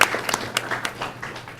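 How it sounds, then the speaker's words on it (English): A round of applause at a school board meeting, steady scattered hand clapping from a modest audience, fairly close and moderately loud, fading slightly toward the end. "How about another nice round of applause for these invaluable community partners?"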